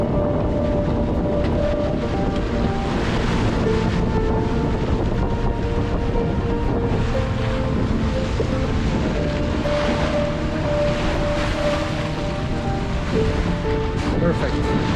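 Steady wind and wave wash aboard a sailboat under genoa without the engine, heading toward Iceland's last port before Greenland; a continuous, loud, even roar of water and wind against the hull and microphone throughout.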